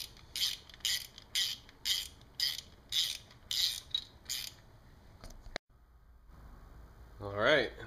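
A hand ratchet tightens bolts on a new motorcycle water pump, giving about nine quick bursts of close, crisp clicking in a steady rhythm, then a pause and a brief scraping sound at the end.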